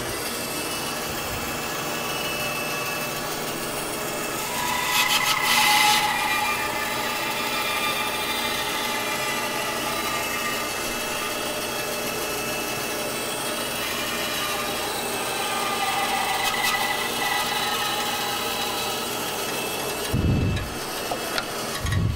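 A sawmill carriage runs a log through the blade, giving a steady mechanical whir and grinding cut that holds at an even level, with brief louder surges partway through and near the end.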